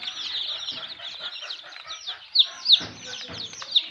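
A group of local chicken chicks peeping and cheeping close by, with many overlapping high chirps and a few louder shrill calls standing out near the end.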